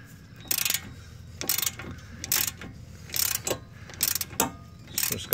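A hand ratchet backing off a nut on the CVT transmission of a 2012 Nissan Altima 2.5L, with short bursts of rapid clicking repeated in quick strokes, close and fairly crisp.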